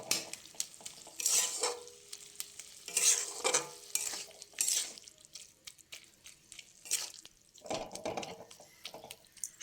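Spiced beans frying in a pan with salt, turmeric, cumin and chili powder, stirred with a spoon in a series of scraping, sizzling strokes, close and fairly quiet.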